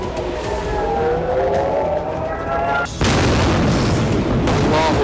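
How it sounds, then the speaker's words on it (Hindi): Serial blasts in northern Israel, loud booming bursts with a wailing tone at first, then a sudden heavy roar of noise from about three seconds on that stays loud to the end. "बेहिसाब बारूद बरसा, सीरियल ब्लास्ट हुए,"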